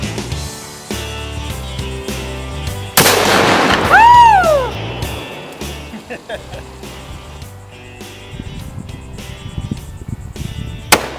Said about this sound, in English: And that's how you shoot a 500 Magnum.